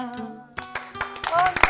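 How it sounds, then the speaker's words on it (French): Studio audience clapping for a singer on a Guinean TV stage, bursts of applause building over a short stretch after a sung phrase fades, with a host's voice speaking over it. "On l'applaudit s'il vous plaît, on l'applaudit"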